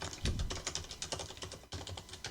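Someone types on a computer keyboard to enter text, giving a quick, close run of soft key clicks in an uneven rhythm with a brief pause near the end, quiet and without talk.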